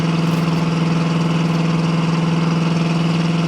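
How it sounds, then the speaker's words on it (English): A steady, deep engine idle from a 1970 Ford Mustang Grande with dual exhaust and Flowmaster-style mufflers rumbles on without pause, with a strong low hum and even exhaust burble; no voices. "Has a nice set of dual exhaust on it. It's got a knockoff style Flowmaster muffler, so it sounds really good"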